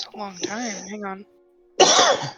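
A short, harsh cough or throat clearing bursts out at a tabletop role-playing game session, following a stretch of talk and a brief pause.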